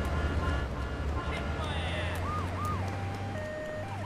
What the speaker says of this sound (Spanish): Ya llegó la ambulancia.